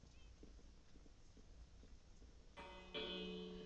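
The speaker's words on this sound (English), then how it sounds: "I always ring the bell" A bell rings in a Minecraft-style desert world game, a bright sustained metallic tone that starts suddenly near the end and rings over a steady game background of hoofbeat-like clopping.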